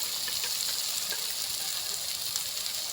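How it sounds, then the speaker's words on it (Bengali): Water is poured into a pan of cooked-down masala for a light magur fish curry, making a steady, loud rushing hiss close to the microphone that lasts the whole moment. "এখন আমি দিয়ে দেব জল।"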